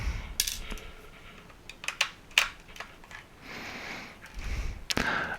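Small metal screws from a Logitech G502 mouse being set down on a hard surface, several light scattered clinks and taps spread over a few seconds, close and quiet with no talking.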